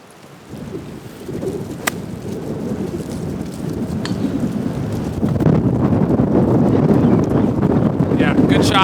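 Strong wind gusting across the Springdale Country Club golf course, a roaring rumble buffeting the microphone that builds and grows louder in the second half, with a few faint bird chirps above it.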